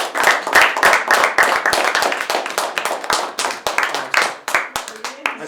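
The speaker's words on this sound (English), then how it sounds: "give you Mike a round of applause for that?" An audience applauds a speaker at a talk, a moderately dense, loud burst of close hand claps that stays steady before thinning toward the end.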